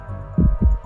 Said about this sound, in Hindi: आदित्य का दिल जोरों से धड़कने लगा।